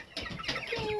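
A young meat chick in a brooder gives a short run of soft clucks and peeps, close and fairly quiet, lasting about a second with no talk.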